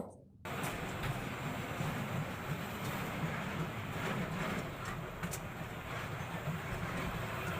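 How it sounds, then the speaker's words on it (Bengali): A small amusement park ride train at Tarapur lake in Bankura rolls along with a faint, continuous low rumble and clatter, heard from on board at a steady level throughout. "এইবারে আমাদের ট্রেনটা ছেড়ে দিল।"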